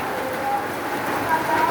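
Rain patters steadily on a surface nearby while a voice talks over it.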